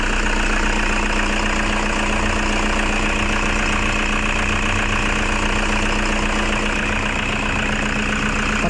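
A Toyota Fortuner engine, just cleared of a persistent check-engine warning, runs steadily at idle, close and loud, with a continuous rumbling drone and a faint knocking texture throughout, no voices.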